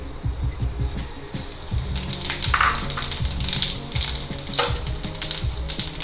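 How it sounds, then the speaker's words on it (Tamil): Pepper and cumin crackle and sizzle in hot oil in a pan, a steady close frying hiss dotted with sharp spattering pops throughout. "எண்ணெய் காஞ்செடுத்து கொஞ்சமாக மிளகு"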